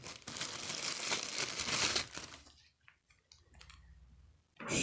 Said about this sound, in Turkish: Kutusunun poşetlerinden de çıkartalım.